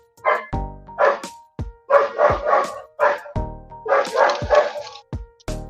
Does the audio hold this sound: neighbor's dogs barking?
yes